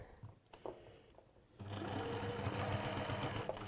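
A sewing machine stitches through nested fabric seams, starting after a short stretch of quiet handling noises and then running steadily and loudly with a rapid mechanical whir to the end.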